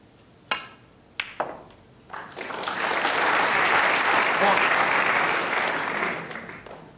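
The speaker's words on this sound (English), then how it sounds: "applause from the crowd" Snooker table clicks: a few sharp ball strikes at a 1994 World Snooker final match, followed by a swell of steady crowd applause that holds for several seconds and then tapers off.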